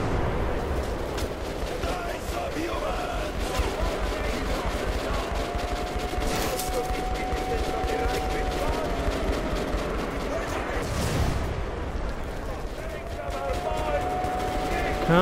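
Gunfire in Metro Last Light Redux during the Heavy Squad DLC, rapid bursts of shots crackling over a constant game soundscape, loud and nearby, with someone talking over the shooting.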